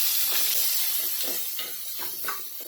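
Onion dropped into hot oil with red and green chillies and a pinch of asafoetida in a pan, giving a loud, steady hiss and sizzle with soft stirring scrapes.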